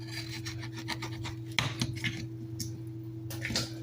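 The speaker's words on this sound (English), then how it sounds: "I'm going to do it the old-fashioned way by grating it" Coconut grated by hand on a metal grater makes a continuous rasping scrape in quick repeated strokes, close up, with a steady low hum beneath and no talking.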